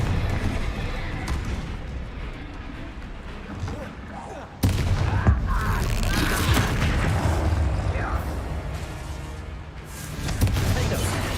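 Bombarda spell explosions in the video game Hogwarts Legacy, a dense run of booming blasts and crackling combat noise that jumps louder halfway through and stays busy to the end.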